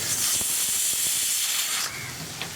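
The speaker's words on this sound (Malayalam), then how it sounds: "കുക്കർ 1 വിസിൽ വന്നു കഴിഞ്ഞു." A pressure cooker vents steam while pumpkin curry cooks, a loud continuous hiss that drops off sharply near the end, leaving a quieter background.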